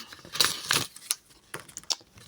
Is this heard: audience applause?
no